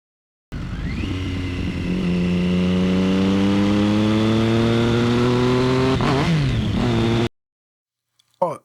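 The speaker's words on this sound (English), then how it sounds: "there's a sort of revving sound in the sound file" Motorcycle engine revving sound effect: a close, loud engine climbs steadily in pitch over several seconds, wavers briefly near the top, then holds before cutting off abruptly into silence.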